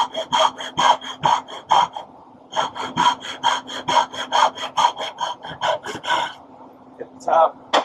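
A hand saw cuts dovetails in wood with a steady back-and-forth rhythm of close, raspy strokes that pauses briefly once and then resumes, with faint breathing heard beneath the sawing.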